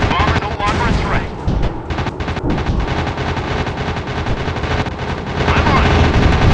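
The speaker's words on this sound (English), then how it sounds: "He's firing at me." Rapid machine gun bursts rattle loudly through an airplane dogfight video game, dense and continuous with short breaks, amid roaring combat noise and in-game voice chatter.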